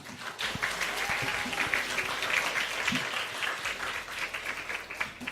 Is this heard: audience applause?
yes